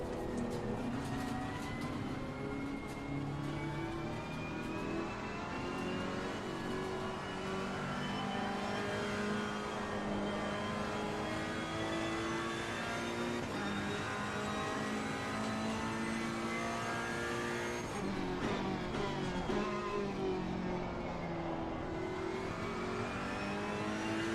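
Race car engines in Assetto Corsa Competizione during a community endurance race at Barcelona, with several engines droning and revving together continuously and loudly, shifting pitch as the cars accelerate and brake through corners.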